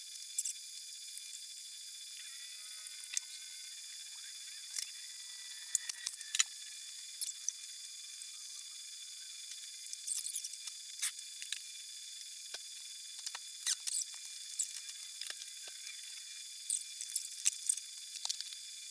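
A ratchet tightens down the battery on a 1971 Chevrolet truck, giving quiet, close bursts of rapid clicking scattered irregularly over a faint hiss.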